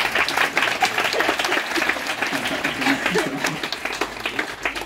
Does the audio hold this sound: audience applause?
yes